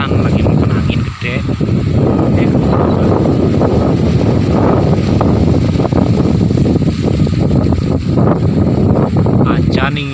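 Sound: strong wind blowing in a village

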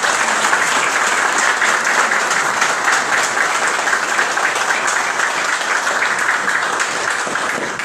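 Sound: audience applause at a swearing-in ceremony

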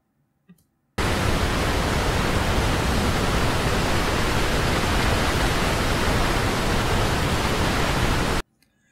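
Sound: recorded waterfall

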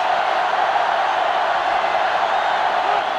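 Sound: stadium crowd roaring in NCAA Football 2005 video game

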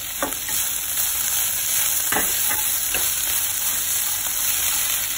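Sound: vegetables sautéing in a pan

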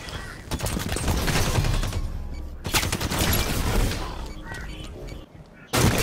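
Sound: sniper gunfire from a video game

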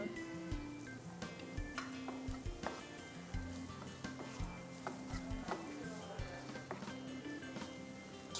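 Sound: Nadan masala spices frying in a pan

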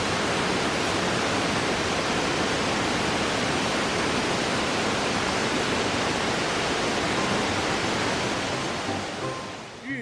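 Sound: Longgong Waterfall on Taixing waterfall trail

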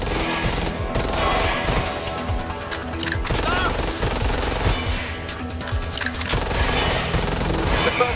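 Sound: gunfire in video game Watch Dogs Legion boss fight

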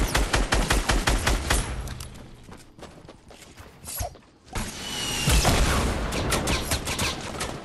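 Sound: gunfire in a video game

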